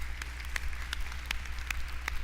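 A church congregation applauding during a service, with steady scattered hand clapping from many people, fairly close and continuous with no talking.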